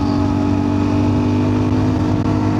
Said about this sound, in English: you can hear it's buzzing a fair bit. But these engines are built to do that all day.